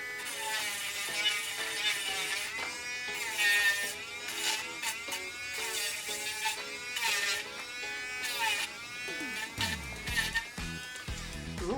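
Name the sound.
Dremel pen rotary tool running on copper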